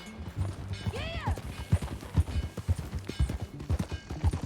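Rhythmic hoof clops trot steadily at close range, with a brief horse whinny near the start and background game sounds from Red Dead Redemption 2.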